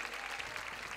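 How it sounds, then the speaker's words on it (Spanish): Crowd at an outdoor pro-life rally claps for a man being welcomed, a faint, distant, even wash of applause lasting a brief moment. "Un aplauso para Antonio, por favor. Un aplauso fuerte."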